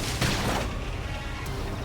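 Gunfire in the video game Xenoblade Chronicles X Definitive Edition: a dense burst of shots at the start fades into a rumbling, noisy battle wash, moderately loud and without talk.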